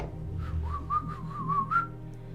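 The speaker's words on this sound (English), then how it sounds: "You watch as he pulls out this small little whistle" A small whistle sounds a wavering, warbling tone in several short bursts over a low background hum, fairly quiet and close.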